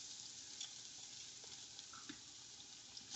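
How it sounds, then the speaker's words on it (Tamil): Onion sautés with star anise, cinnamon and bay leaf in hot oil inside a rice cooker, a steady close hiss and crackle of frying with occasional small pops and stirring scrapes. "இப்போ ரைஸ் குக்கரில் நம்ம ஸ்டார் அனீஸ், பட்டை, பிரிஞ்சி இலையெல்லாம் தாளிக்க போட்டாச்சு"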